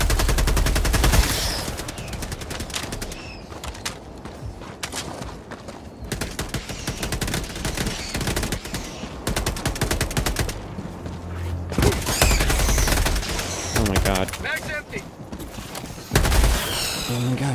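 Gunfire in Helldivers II: dense, sustained automatic fire and rapid shot bursts with mechanical clatter, loud and close throughout, swelling in heavier volleys toward the end.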